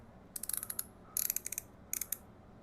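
Ratchet wrench clicking on a motorcycle oil drain plug on a Yamaha, three quick bursts of crisp close-up pawl clicks separated by brief pauses, in a quiet setting.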